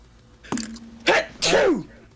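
A single loud human sneeze with a short intake before it, occurring during a tabletop role-playing game session, alone without speech.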